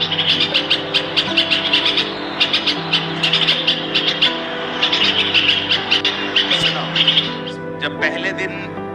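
Small birds chirp near a window in quick, bright bursts that repeat almost without pause, set over a steady low hum.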